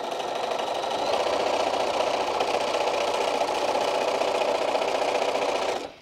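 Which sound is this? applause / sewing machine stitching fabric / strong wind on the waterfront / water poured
sewing machine stitching fabric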